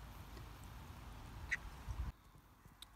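Several short duck quacks ring out over a steady outdoor background, a louder burst near the middle, then a quieter stretch with one more faint call.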